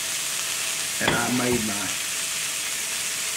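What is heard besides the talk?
burger patty sizzling in a pan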